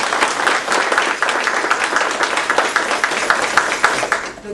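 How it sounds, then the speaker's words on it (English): An audience at a Gullah Geechee Seminole reunion gathering bursts into steady, dense applause, many hands clapping together for several seconds before it starts to fade. "So we want to give y'all a round of applause."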